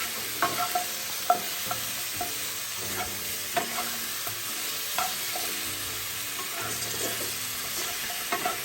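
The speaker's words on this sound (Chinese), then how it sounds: "中火继续翻炒1至2分钟，闻到香味就可以了。" Braised pig trotters with red yeast rice are stir-fried over medium heat, with a steady sizzle under repeated spatula scrapes and clinks against the wok, close and continuous with no voices.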